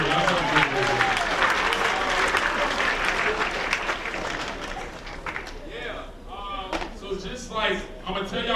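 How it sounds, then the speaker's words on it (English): A school writers' week audience claps for itself in a sustained, loud burst of applause that thins out midway as voices and talk emerge, then swells again briefly. "Clap it up for yourself."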